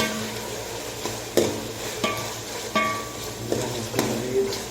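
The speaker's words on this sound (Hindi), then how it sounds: "अभी दूध फ्राई करके देखते हैं" Masala and milk sizzle and fry in a pan, with steady hissing broken by several scraping stirs and light clinks of a spoon against the metal.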